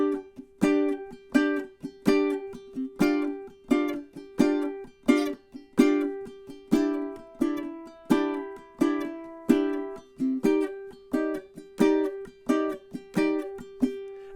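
Ukulele strummed in a steady sixteenth-note pattern with pulse muting, chords ringing then clipped in a regular choppy rhythm, close and clear with no voice.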